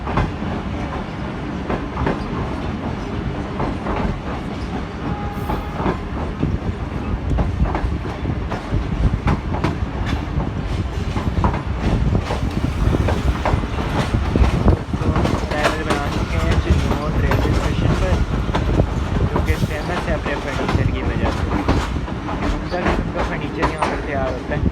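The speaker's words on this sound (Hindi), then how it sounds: "ठीक 2:15 पर हमारी ट्रेन 18 डाउन मिलत एक्सप्रेस अराइवल बना रही है चिन्नौर रेलवे स्टेशन पर" The 18 Down Millat Express arrives at Chinnaur railway station with a continuous rumble of rolling wagons and clattering wheels, steady and fairly loud for the whole stretch, while someone talks over it.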